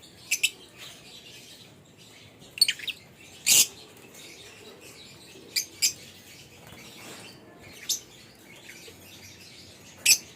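Pet birds chirping: short, high, scattered tweets every second or two over a faint steady background hum, with no voices.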